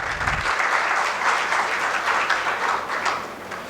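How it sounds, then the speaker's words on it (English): Conference attendees applaud prize winners in a hall, a brief low thump giving way to steady, moderately loud clapping from a sizable audience. "So a huge round of applause for all of the winners"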